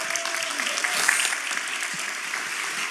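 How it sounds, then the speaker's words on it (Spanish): Audience applause fills a Spanish-language masterclass on how the Bible came to us, steady dense clapping from a crowd, loud and continuous throughout. "Creo que podemos darle un aplauso a Josías"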